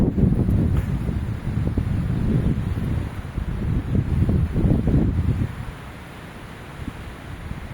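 Wind buffeting a microphone outdoors while someone sits up in a tree, a loud rumbling, gusty roar with leafy rustle that eases into a quieter, steadier hiss toward the end.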